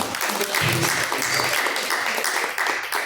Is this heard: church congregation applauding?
yes